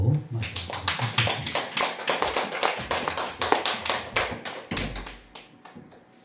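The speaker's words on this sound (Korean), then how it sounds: "박수로 맞이하겠습니다" A church congregation applauds during a mission Sunday worship service to welcome the pastor, with many close, quick hand claps in a steady crackling burst that fades out near the end.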